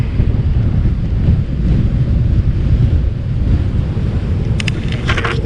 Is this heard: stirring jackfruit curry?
no